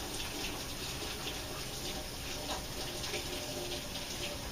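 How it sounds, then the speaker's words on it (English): Tap water runs steadily as hands are rinsed at a kitchen sink during pie crust and tart baking, a continuous close hiss with no pauses. "let me rinse my hands"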